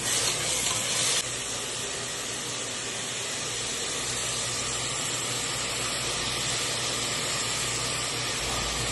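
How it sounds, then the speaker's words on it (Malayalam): Chopped tomatoes sauté in a pressure cooker for chicken biriyani, giving a soft, even hiss and sizzle that stays faint and steady throughout, with a slightly louder burst at the start and no voices. "അടുത്ത് നമ്മൾ കട്ട് ചെയ്ത് വെച്ചിട്ടുള്ള തക്കാളി അതിലേക്ക് ആഡ് ചെയ്ത് വഴറ്റിയെടുക്കേണ്ടതാണ്."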